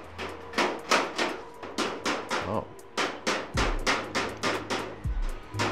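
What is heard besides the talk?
construction noise, hammering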